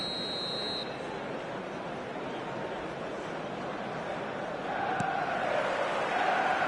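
Stadium crowd roaring at kickoff of an eFootball match, a steady broad wash of cheering that swells louder near the end, with a brief electronic tone at the start.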